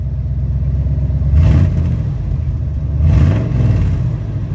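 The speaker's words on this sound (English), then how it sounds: "Here's a cold start up on the OBS. Give it a little rev." A cold-started old body style Ford diesel truck idles with a low, steady rumble, still missing a little, and is revved twice in brief swells about two seconds apart, close and fairly loud.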